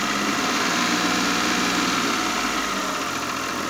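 A parked car's engine idles steadily throughout, a constant loud running drone with no revving and no voices.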